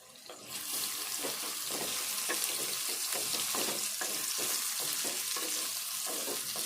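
Food crackles and sizzles steadily in hot oil while ridge gourd is fried for a pounded chutney, a dense bubbling hiss with scattered pops and the occasional stir, close by, with no talking.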